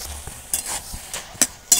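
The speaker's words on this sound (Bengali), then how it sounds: "খুন্তি দিয়ে এইভাবে ভালো করে একটু ঘেঁটে নিতে হবে সব কিছু" Spatula stirring cumin paste through a thick pumpkin and shrimp curry with Malabar spinach in a pan, giving soft scraping strokes with a few sharper clinks of metal on the pan, close and alone.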